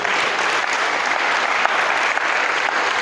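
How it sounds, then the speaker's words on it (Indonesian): A seminar audience of future Darul Uluum Lido organization leaders gives a steady, dense round of applause that fills the whole moment without a break. "Tepuk tangan buat Anda"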